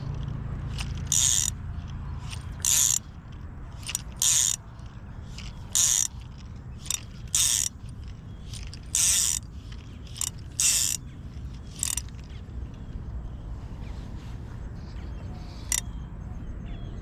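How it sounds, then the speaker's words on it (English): A fly fishing reel's clicker ratchets in short bursts as line is pulled off, sharp buzzing clicks repeating at irregular intervals over quiet outdoor background near West Palm Beach, Florida. "I know that the clicker is not always required, but it kind of helps me while I'm learning to have a little bit more resistance"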